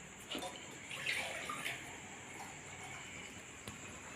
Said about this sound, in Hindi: तो सबसे पहले आप गंगा जल डालिए और फिर उसके बाद उसमें जल डाल दीजिए।